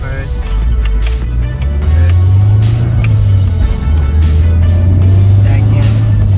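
Nissan 180SX (S13/SIL80) engine droning loudly from inside the car during a street drift, its low note rising and falling as it shifts through the gears.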